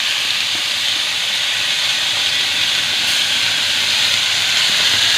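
Aloo chop potato fritters frying in hot oil, a loud, steady, dense hiss of sizzling that holds evenly throughout with no pauses.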